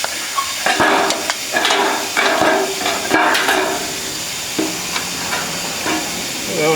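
A plasma cutter slices through a metal rain gutter, a near hissing roar broken by sharp crackles and pops, running in bursts that fade and return over several seconds.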